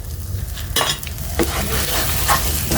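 In a pan, milk powder and ghee are stirred together over heat. A steady sizzle runs through the whole clip, broken by scraping utensil strokes that are loud and close, with no talking.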